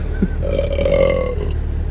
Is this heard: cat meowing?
no